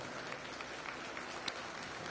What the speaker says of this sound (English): Give that young lady a nice round of applause.